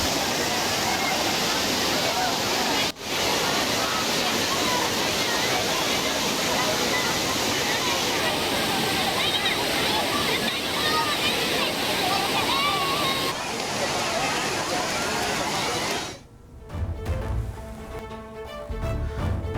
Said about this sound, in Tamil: அருவி போல் கொட்டும் தண்ணீரில் குளித்து சுற்றுலா பயணிகள் உற்சாகமடைந்தனர்.